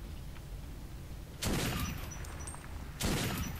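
Shotgun fire in the video game Metro 2033, two loud sharp blasts about a second and a half apart, each followed by a short decaying tail over a dull rumbling background.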